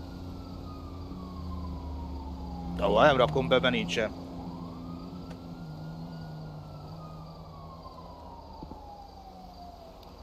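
An emergency vehicle siren in a Hungarian police role-play video game set in a city, a long falling-and-rising wail running faintly throughout beneath a short burst of loud nearby talk.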